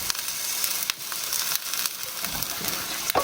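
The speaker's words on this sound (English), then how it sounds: "And now we add 1 tin of chopped tomatoes." A tin of chopped tomatoes hits a hot pan while cooking an African peanut stew, giving a steady, close sizzle and frying hiss across the whole moment with no talking.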